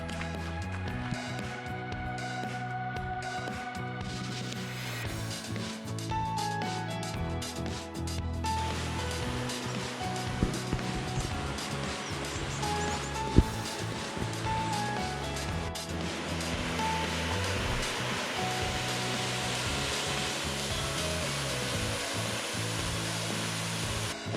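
Steady broadband rush of creek water flowing at Hogarth Falls near Strahan, Tasmania, a continuous close wash of noise with no talk over it.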